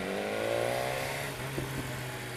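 A BMW S1000R motorcycle pulls along under throttle with a steady engine and exhaust note, then lets out a couple of brief, sharp exhaust pops as the drive eases off.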